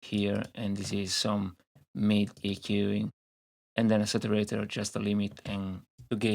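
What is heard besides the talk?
No everyday noises stand out.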